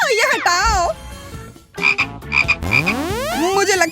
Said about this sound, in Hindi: एक मेढक।